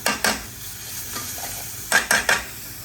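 Garlic paste sizzles gently in a pan on a gas hob while a spoon scrapes and stirs it in a few quick clattering strokes at the start and end.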